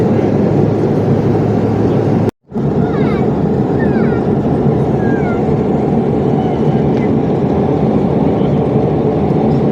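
Steady, loud broadband roar of an airliner cabin in flight over the mountains of Kyrgyzstan, continuous throughout apart from one brief cut, with a few faint higher chirps in the background.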